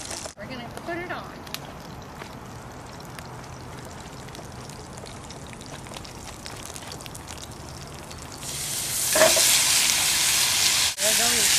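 Flatiron steak sizzles in a ridged hot fry pan at a campground: a steady, close hiss of frying that swells louder toward the end, with faint voices in the background.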